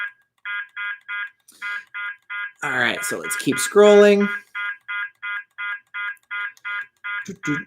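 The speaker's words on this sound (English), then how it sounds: "Different tones for the different bands." A Uniden R7 radar detector sounds its band alert tones, a fast run of evenly spaced bright beeps. Someone talks over them partway through, and the beeping carries on alone afterward.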